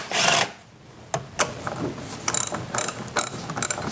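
A hand ratchet loosens 10mm bolts on the metal fairing bracket of a Honda Interstate motorcycle, giving close, quick bursts of pawl clicking after an opening rasp and a few knocks.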